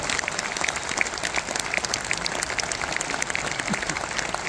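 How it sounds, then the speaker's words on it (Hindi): Loud applause from a crowd honoring award-winning masters at a business gathering, a steady dense patter of clapping throughout with no talk over it. "उनके लिए भी जोरदार तालियां हो जाए।"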